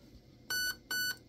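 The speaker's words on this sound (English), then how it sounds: "that two beeps means that I'm in semi-firing mode" A Raven Evolution Furion ETU airsoft trigger unit gives two short, bright electronic beeps in quick succession, clear and close against near silence.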